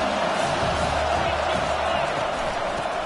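A packed stadium crowd roars in the NCAA College Football 25 video game, a dense, steady wash of cheering that stays loud and constant throughout, with faint low rumbles beneath and no clear individual voices.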